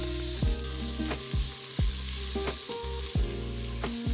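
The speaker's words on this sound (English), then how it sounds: "I am sauteing with avocado oil, butter, and essence of garlic salt seasoning." Food sautés in a pan of avocado oil and butter with garlic salt seasoning, a steady close sizzle with light stirring, while soft music plays with a recurring beat.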